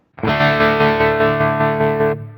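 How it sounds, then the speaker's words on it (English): Electric guitar chord played through a Quad Cortex tremolo at a low setting, a single sustained distorted chord with a quick, shallow pulsing in volume, ringing loud and alone for about two seconds before stopping. "You can hear that the tremolo is kind of a quick beat there."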